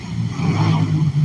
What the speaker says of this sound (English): some motorcycles going by